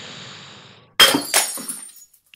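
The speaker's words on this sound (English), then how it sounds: "hurl your wine glass to the ground and scream at him" A wine glass thrown to the ground shatters after a quiet lead-in, a sharp loud crash followed by a second burst and tinkling shards that fade into silence.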